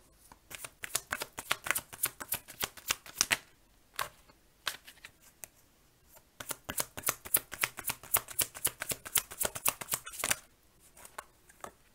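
Tarot cards are handled and drawn for a reading, producing quick crisp flicks and riffling snaps in fast bursts, close and fairly quiet, with a couple of short pauses between runs.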